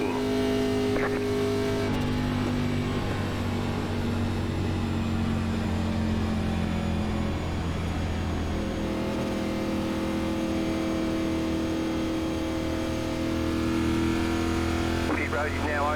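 NASCAR Xfinity Series stock car engines in iRacing at Atlanta Motor Speedway drone loudly and continuously, their tones rising and falling as the cars run in a pack.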